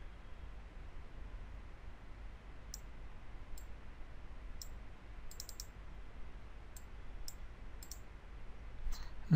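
Computer mouse clicks during photo editing in Lightroom, a handful of faint, crisp single and double clicks scattered over a quiet hiss of room noise, no voices.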